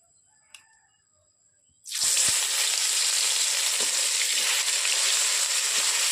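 Masala hits hot oil with a sudden loud burst of sizzling that holds steady and close, while a rooster crows briefly in the quiet just before it.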